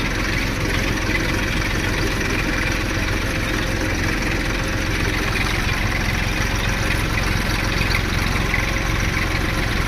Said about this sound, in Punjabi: ਗਾਰੇ 'ਚ ਟਰੈਕਟਰ ਘਮਾਉਣਾ